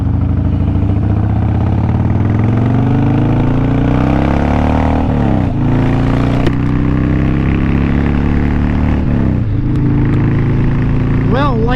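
A 2001 Harley-Davidson Dyna Wide Glide FXDWG with a Twin Cam 88 V-twin rumbles steadily underway, its loud, close engine note holding and rising through gear shifts with brief dips, constant wind and road noise beneath.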